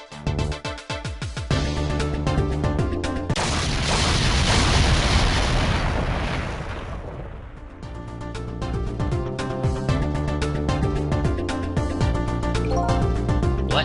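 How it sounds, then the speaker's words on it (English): An explosion in the video game Ghost Trick, a long, loud roaring burst that swells for several seconds and fades under steady, busy game music. "I think I heard an explosion somewhere."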